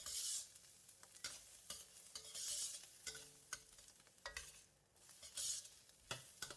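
Minced garlic and lap cheong are stirred in a very hot wok, giving a soft, steady sizzle broken by repeated scraping strokes and light metallic clinks, fairly faint and close.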